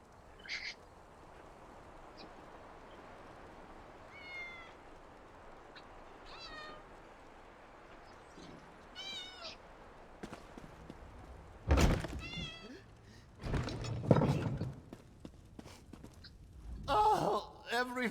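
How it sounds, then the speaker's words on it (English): Cats meow repeatedly in The Elder Scrolls Online video game, a scattering of short meows that start faint and grow louder and more crowded toward the end, with thuds and background game ambience. "Damnable cats!"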